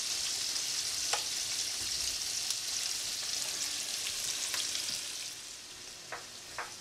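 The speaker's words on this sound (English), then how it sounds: "I've got 2 tablespoons of butter and 2 tablespoons of olive oil in a big old skillet, and I want to cook this onion until it's nice and tender." Onion frying in a big skillet with butter and olive oil, giving a steady close sizzle throughout with a few sharp pops and spatters, no voices.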